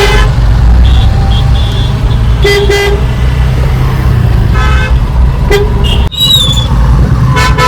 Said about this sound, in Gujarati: ટ્રાફિક વધારે તો ગાઈસ ટ્રાફિક વધારે છે.